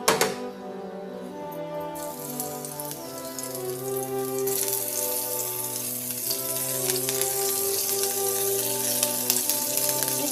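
Cauliflower coated in gram flour sizzles and crackles steadily as it fries in an oil pan, a dense continuous hiss, over a background of music.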